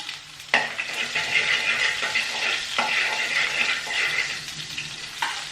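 Steady sizzling of garlic, green chili and onion frying in a pan, with occasional stirring scrapes, continuous and close.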